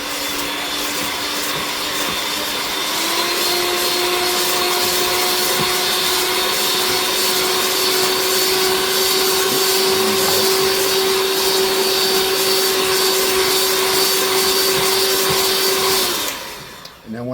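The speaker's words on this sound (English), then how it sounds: "So we're going to start by just beating the eggs a little bit," Steady electric hand mixer whirring continuously while beating egg yolks for homemade eggnog in a small kitchen, its motor pitch rising slightly after a few seconds and holding loud and even before cutting off at the end.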